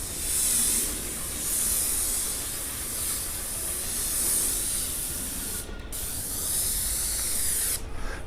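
Steady paint spraying as a finish coat goes onto a cinder block wall in Central Phoenix, a continuous loud hiss that holds for several seconds and breaks off briefly twice near the end.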